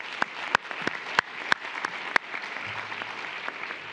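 Audience applause for award recipients at an agency ceremony: a smattering of claps with distinct sharp individual hand claps standing out over a light, steady patter, moderately near and brief.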